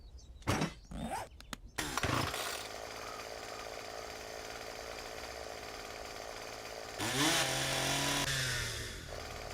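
Chainsaw in the video game 7 Days to Die, starting up after a few short bursts and then running as a loud, steady buzzing drone with a throttle surge near the end.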